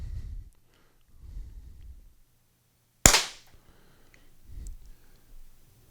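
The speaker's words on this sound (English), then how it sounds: "We're going to put in 5 more rounds on the same CO2 cartridge" A single sharp report from an Umarex HDP50 CO2 pistol, loud and close, with a brief decaying tail, set between quiet stretches of low handling rumble.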